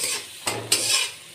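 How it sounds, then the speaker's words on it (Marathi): Ginger garlic paste and green chillies sauté in a pan for egg dum biryani, a close bright sizzle broken by a few quick scrapes of a spoon stirring against the metal. "आलं लसूण पेस्ट आणि हिरवी मिरची छान 1 मिनिट परतवून घ्यायचं आहे"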